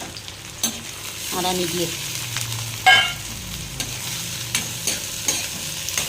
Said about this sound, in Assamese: চৰচৰাই গৈছে পিঁয়াজ, জলকীয়া, নহৰু